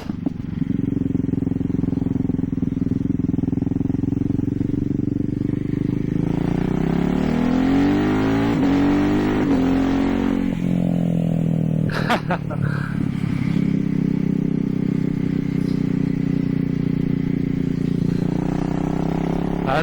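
Ducati Hyper Motard motorcycle on the move, its engine a loud steady drone close to the rider that rises and falls as the revs shift, plus a brief clatter midway and steady wind noise.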